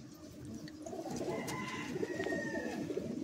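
Madrasi and desi pigeons at a sale in Bagnan, Howrah, cooing softly: low, rolling coos repeating over faint background noise, with a few thin higher chirps.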